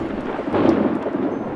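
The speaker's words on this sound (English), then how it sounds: "Then it started to rain, and the magic came to an end" Storybook sound effect of thunder and rain: a deep rolling rumble swells and fades over a steady hiss of rainfall, loud and alone, with no voices.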